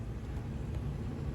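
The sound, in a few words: air conditioner running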